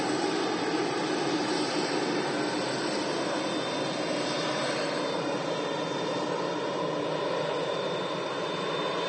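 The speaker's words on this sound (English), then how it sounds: "There's the Turkish Airlines A330 300 series." Turkish Airlines Airbus A330-300 jet with red winglets at Manchester Airport, a loud, steady broadband engine roar that holds constant throughout without any talk.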